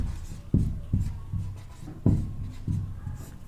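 Handwriting on a board as the Hindi word for college is written out, several short scratchy strokes with pauses between them, close and clear.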